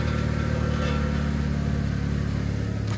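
A Volkswagen Golf 5 GTI's engine idles and rumbles nearby, with a coarse, rattling exhaust tone running steadily through the whole stretch.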